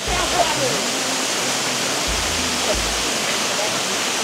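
Cold mountain stream water near a bungalow in Kalimpong rushes in a loud, steady broadband roar like a waterfall, with low thumps of wind or handling at times and a voice faintly audible beneath.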